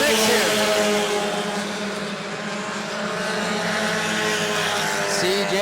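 Bomber class race cars roar around the New Smyrna track, a dense, continuous wall of engine noise with pitch shifting as cars jostle for position, a commentator's voice faintly buried underneath.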